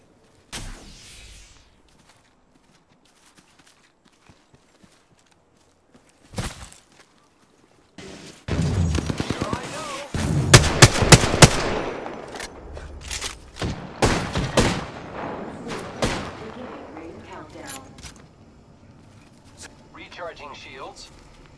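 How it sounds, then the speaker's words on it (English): Enemy gunfire in a shooter video game, several bursts of sharp shots and impacts arriving in irregular clusters, loud at times and mixed with other game noise after a quiet start. "The enemies are shooting at me."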